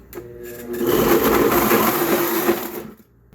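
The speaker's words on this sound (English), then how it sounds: "And here we go with my fancy dancy blender." A home countertop blender pulses chile verde ingredients for pork chile verde, a loud grinding whir that runs steadily for about two and a half seconds before cutting off, with no talking.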